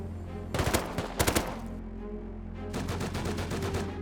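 Rapid automatic gunfire in a video game oil rig fight against a heavy scientist, loud bursts with a short pause and then a longer sustained volley over a steady background hum.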